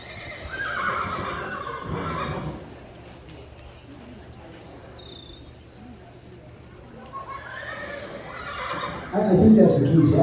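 A colt named Abagail neighs loudly during a colt starting competition at a horse camp, two whinnies several seconds apart with quieter clip-clop and rustling between them, and voices murmur faintly in the background.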